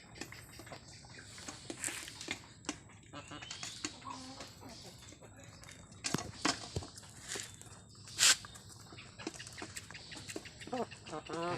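Backyard chickens cluck and peck at feed at close range, with scattered scratching, tapping and rustling. A voice talks now and then over the birds.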